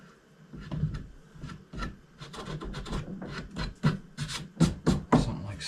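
Sawdust is rubbed by hand into the nail holes of an old wooden stool, giving a run of short, close scratchy rasps that come in an uneven rhythm and grow a little firmer toward the end, with no talking.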